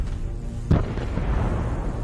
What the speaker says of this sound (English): This gave the artillery time to take aim and destroy the armored vehicle.